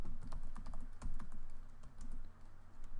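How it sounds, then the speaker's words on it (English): Rapid typing on a computer keyboard at a desk while working in AutoCAD 2016, a quick run of close, light key clicks with a couple of firmer taps, no talking. "I type Content Explorer."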